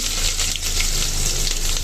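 Onions frying in ghee for green peas pulao, a loud, steady sizzle with a watery hiss, close up and continuous.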